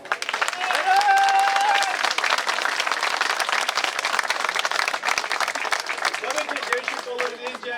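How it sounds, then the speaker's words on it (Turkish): Crowd applause at a spring festival held by a Bulgarian immigrants' association in Sakarya, sustained dense clapping throughout with a voice over a loudspeaker layered on top. "kuvveti bir alkış istiyorum"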